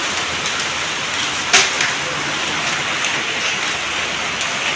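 Nonstop rain pours down steadily outdoors, a dense even hiss with scattered louder drops and one sharp splash or knock partway through; no voices.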